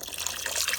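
Chicken broth pours into a pan of gravy in a brief, close liquid splash and trickle.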